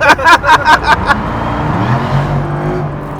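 Hennessy F5 hypercar engine: a burst of rapid, rhythmic pulses is followed by a steady, low, droning engine note that holds at a fairly even level.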